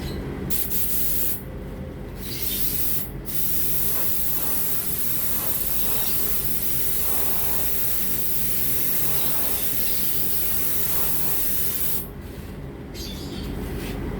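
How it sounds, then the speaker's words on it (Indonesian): A paint spray gun set to its smallest pattern hisses continuously as a dry coat goes onto a car body, a loud steady spray with brief pauses where the trigger lets off. "Kita semprot di area yang ada tempulannya terlebih dahulu teman-teman."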